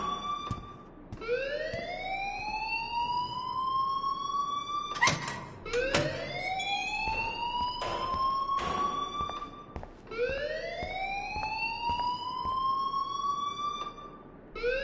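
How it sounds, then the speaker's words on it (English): A school alarm in the Life is Strange video game wails in rising siren sweeps, repeating about every four to five seconds, loud and steady with short sharp clatters between the sweeps. "please turn off that alarm since that's your job"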